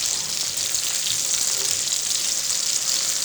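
Steady, hissing sizzle of food frying in butter in a pan, continuous and fairly close with no pauses or voices.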